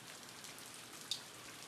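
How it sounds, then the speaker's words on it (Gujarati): Rain falling outside makes a faint, even hiss throughout, with one tiny drip tick standing out near the end. "તો બહાર વરસાદ ચાલુ છે"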